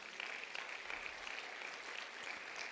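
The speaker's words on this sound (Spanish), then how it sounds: "Pues un aplauso a las mamás otra vez." A church congregation applauds the mothers with steady, sustained clapping that stays fairly faint and distant for the whole stretch.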